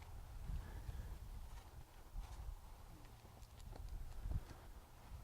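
A horse's hooves clip-clop at a walking pace, a faint, uneven series of soft thuds with light wind in the background.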